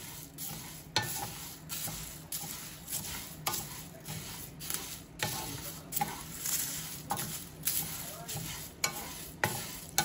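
Sambar, rasam and fish curry spice powder dry-roasts in a pan with steady crackling, and a spatula stirs and scrapes in regular strokes close by.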